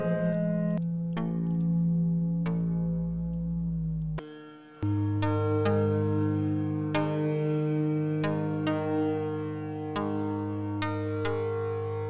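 A modular synth patch plays plucked, resonant string-like notes in a slow ambient pattern, each struck tone ringing and decaying with bright overtones, one voice slightly out of tune, sounding alone without talk.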